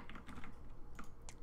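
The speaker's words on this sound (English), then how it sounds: "some people were complaining about how you could hear my keyboard in the background" Computer keyboard typing, a quick run of soft, uneven key clicks at low level with background hum, no voices.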